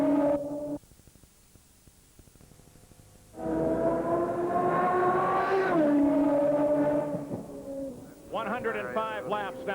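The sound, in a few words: IndyCar race cars at speed during the race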